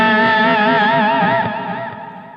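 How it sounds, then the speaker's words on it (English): Distorted electric guitar lead with drive, clean boost and delay, a single sustained bending and vibrato line for a worship song, loud and saturated, with echo tails lingering as it slowly fades. "turn on your distortion, your drive, your amp drive, and your clean boost and your delay"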